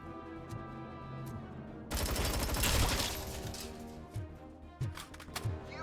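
Automatic machine-gun fire in the Robocop: Rogue City video game, a loud sustained burst of rapid shots followed by scattered, sharper single reports and smaller bursts.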